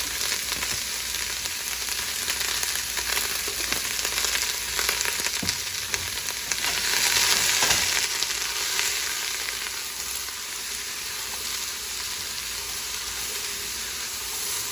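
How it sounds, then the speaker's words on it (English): Vegetables seasoned with salt, pepper and garlic sizzle gently in a pan as they sweat for a shrimp boil, a steady close frying hiss with occasional stirring clicks. "We're just going to sweat these down ever so slightly"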